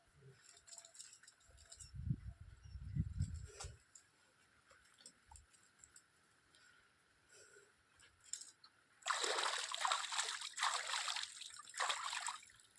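Water splashes and trickles close by as a person floats in water, quiet dribbling and soft sloshes at first, then a louder run of splashing bursts near the end, with no one talking.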